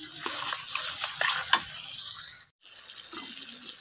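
Chopped tomatoes with salt fry in a pan, a bright continuous hissing sizzle with a brief drop near the middle, then soft stirring.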